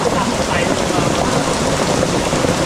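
Heavy rain pours down on an outing, a loud, dense, continuous hiss filling the whole stretch with no break, close to the microphone.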